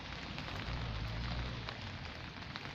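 Light drizzle falls steadily outdoors, a soft even hiss of small raindrops with a faint low rumble beneath, quiet and constant throughout, with no voices.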